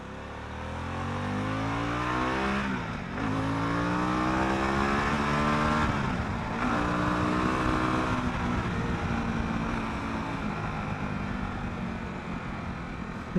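A Harley-Davidson Pan America Special motorcycle engine accelerates hard and close, its note climbing through the revs, dropping briefly at two gear shifts and then pulling steadily upward again.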